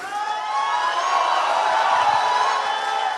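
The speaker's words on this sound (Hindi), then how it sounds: "इसमें से कई लोग ऐसे हैं जो उनके लिए भी ताली बजा रहे हैं और इनके लिए भी बजा रहे हैं" Large outdoor audience at a poetry gathering clapping and cheering in a dense, steady roar with whoops, loud and continuous throughout.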